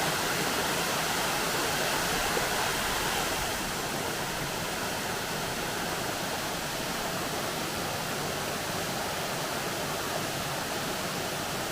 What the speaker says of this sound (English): I have made it up here to the base of the waterfall.